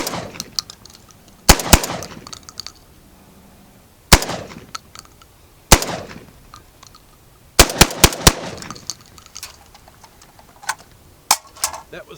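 A Citadel Boss 25 shotgun, fed from a Panzer Arms magazine, fires a series of sharp, loud outdoor shots: single blasts spaced a few seconds apart, then a quick cluster of three, with clinks and handling noise between them.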